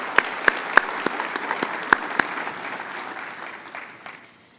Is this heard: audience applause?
yes